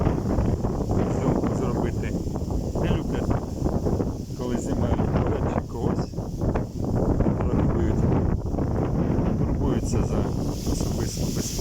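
Strong wind buffets the microphone continuously, a rough roaring rush with gusts throughout.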